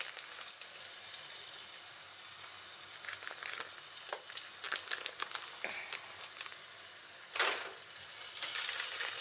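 Salmon fries in a pan over medium heat with a soft, steady sizzle dotted with small crackles, then a brief louder hiss partway through before it settles back into a quiet fry.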